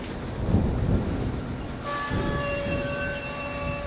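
A train's wheels squeal as it brakes to a halt at an empty station, a steady, loud high-pitched screech over rumbling carriages that grows shriller partway through, with no voices.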